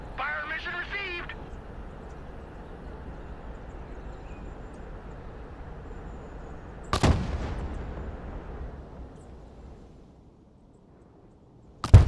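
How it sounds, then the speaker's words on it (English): Mortar fire in the war game Broken Arrow booms once, sharp and heavy with a long rumbling tail, then a second blast cuts in at the end, with radio-style game voices heard earlier. "Mortar, ready to fire."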